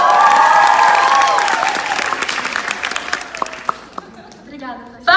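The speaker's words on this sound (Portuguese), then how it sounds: "Palmas pra ela!" Live concert audience in Porto Alegre bursting into loud, dense applause with cheering and shouts, gradually thinning into scattered claps before a voice speaks at the end.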